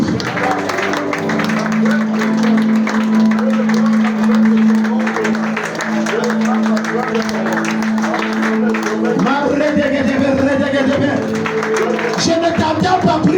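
A church congregation at a Sunday worship service claps and cheers steadily, with loud sustained applause and crowd noise, a steady hum and voices mixed in underneath.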